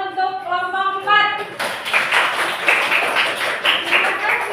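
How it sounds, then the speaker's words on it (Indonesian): Students applaud group 4 after its presentation in a classroom, a burst of quick clapping that follows a brief sustained musical tone and continues steadily to the end. "tepuk tangan untuk kelompok 4."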